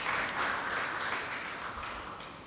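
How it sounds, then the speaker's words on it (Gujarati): Audience applause welcoming two guest speakers at a Gujarati book talk, a steady wash of many hands clapping throughout, fairly soft and slightly distant, with no talk over it. "આપણે એમને તાળીઓથી વધાવીએ."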